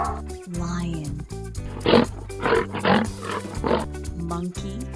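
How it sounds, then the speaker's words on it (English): A lion roars in a few low, rough bursts over background music, fairly close and moderately loud. "Lion."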